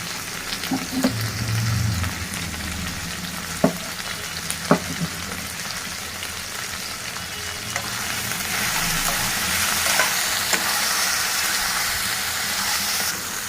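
Cauliflower fry seasoned with turmeric and salt is stirred in a pan: a continuous crackling sizzle with occasional sharp clicks of the spoon against the metal, and no voices.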